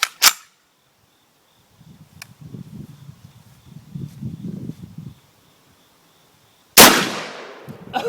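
A 12 gauge shotgun slug fired at a bleeding zombie target outdoors: two sharp, loud blasts, one at the very start and one near the end, with a low rumbling murmur in the quiet gap between them.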